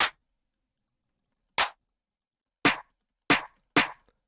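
Separate single clap samples from a layered electronic clap play one after another: five crisp, bright snaps, the first two spaced widely and the last three quicker, each dry and short against silence.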